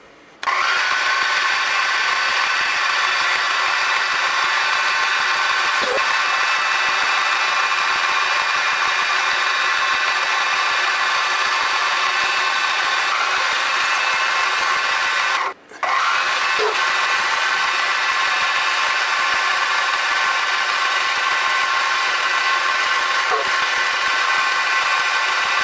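Spot drilling holes in a metal part for a miniature petrol engine, likely on a lathe or drill press: a steady, continuous machining whir with a brief break midway.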